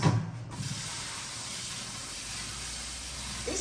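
Continuous hissing rush of water running over rice being rinsed in a container, close and fairly loud, beginning with a brief splash and holding steady without talk.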